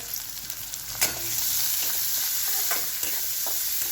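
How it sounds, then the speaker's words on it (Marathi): Chopped onion, tomato and turmeric sauté in a pan for a quick pea and cauliflower sabzi. A steady close sizzle runs throughout, broken by a few scraping stirs, and nobody speaks. "सर्व साहित्य चांगलं परतून घ्यायचे"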